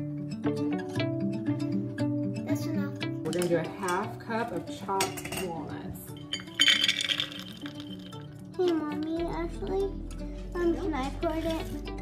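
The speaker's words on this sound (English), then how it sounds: "Okay, you can put it in and start mixing it." Apple baking batter with raisins being stirred in a bowl, with repeated clinks and scrapes of a utensil against the dish in an irregular rhythm, while an adult and someone talk over it in a home kitchen.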